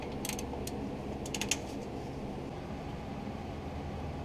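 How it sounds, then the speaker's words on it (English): Rear axle bolts on a Toyota 4Runner being torqued down, a few quick metallic ratchet clicks early on over a steady background hum, close by with no talking. "And then you can go ahead and torque it down."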